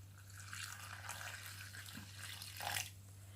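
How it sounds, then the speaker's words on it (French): Warm water poured into pissaladière dough in a home kitchen, a faint splashing trickle over a steady low hum, with a brief brighter splash near the end. "on va ajouter 300 ml d'eau tiède, 30 centilitres"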